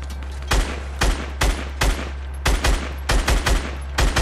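Heavy gunfire in Fortnite Battle Royale, including a sniper rifle: about ten loud, sharp shots in an uneven rhythm, some doubled, close and up front over a steady low game hum, with no talking.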